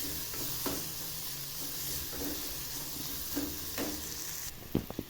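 Curry leaves sautéing in a pan: a steady, soft sizzle with faint crackles and a few stirring scrapes, close and continuous, with brief sharper knocks at the end.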